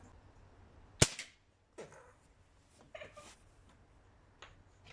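A Crosman 1377 pump air pistol fires a single sharp pellet shot at a target. The shot is a crisp, close crack, followed by a few faint handling clicks and rustles.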